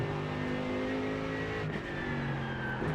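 A race car holds full throttle on a lap of Canadian Tire Motorsport Park, its engine a loud, steady, rising drone heard close from the cockpit, with a brief dip near the end and no talk.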